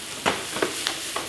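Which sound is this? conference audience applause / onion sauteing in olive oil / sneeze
onion sauteing in olive oil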